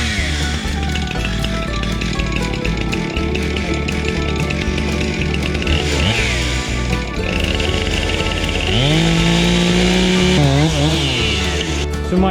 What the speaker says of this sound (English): cut this with a chainsaw and level it out